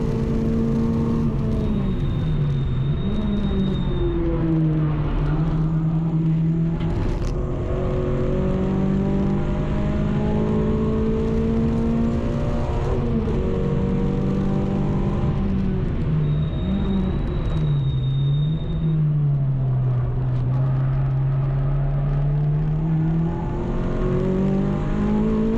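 Race car lapping Donington Park during a trackday championship round, its engine droning loud and steady throughout with rising and falling revs as it shifts and powers through corners.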